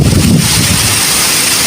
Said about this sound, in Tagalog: Lakas ng hangin dito sa labas.